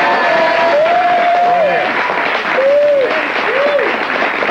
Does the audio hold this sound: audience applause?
yes